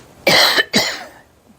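Two loud, close coughs in quick succession, each a harsh broadband burst, followed by a faint trailing breath.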